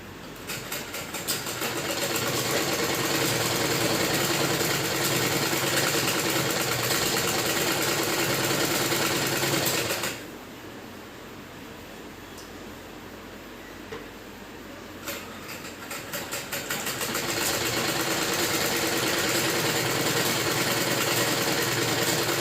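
A sewing machine stitches a kachchha in a long, loud steady whirring run, drops to a quiet low hum for several seconds, then whirs up again to full speed.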